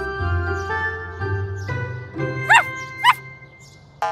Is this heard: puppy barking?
yes